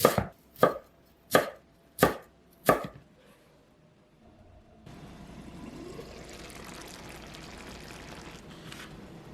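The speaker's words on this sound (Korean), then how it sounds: "당근은 가늘게 채 썰어 줄게요. 짧은 길이로 썰어 주시고요." Carrots being cut into thin short strips on a board, five loud, evenly spaced knife chops close by, followed by quiet and then a soft steady rush of running water.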